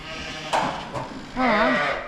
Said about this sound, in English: If I can chase these sheep out.